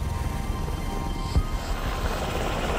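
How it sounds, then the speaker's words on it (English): A military helicopter from a naval strike group comes in to land, its rotor churning a steady low, choppy rumble with a brief thump midway, at moderate distance and without voices. "So this is a helicopter landing."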